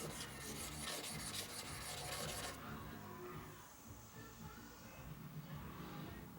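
Old, worn wet sandpaper rubs against a Spyderco Manix 2 XL knife with Cruwear steel in steady back-and-forth rasping strokes, close up. The gritty scraping is dense at first, then softer.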